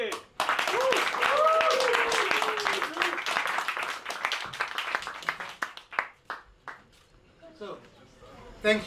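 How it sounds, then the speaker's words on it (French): Loud, close audience clapping at a bitcoin meetup, dense for several seconds and then thinning into scattered individual claps that die away, with voices calling out over it. "On applaudit bien fort, Didi."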